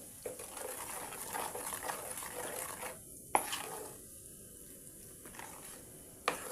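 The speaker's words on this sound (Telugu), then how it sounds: "ఇప్పుడు ఇదంతా మంచిగా కలబెట్టేసుకోండి." Spice powder being mixed into a prawn pickle after the stove is switched off, with quiet scraping and stirring strokes, a few sharp spoon knocks against the pan and a faint background hiss.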